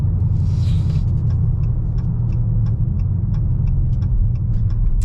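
A modified 5.7L Dodge Charger cruises on an open freeway, its engine a steady deep rumble with constant road drone, heard from inside at close range with no talk.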